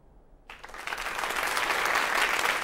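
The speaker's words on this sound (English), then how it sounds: "you always hear this crowd that's laughing and applauding, but there's nobody there" A cartoon soundtrack crowd breaks into applause after a moment of near silence, the clapping swelling quickly into a steady, loud roar.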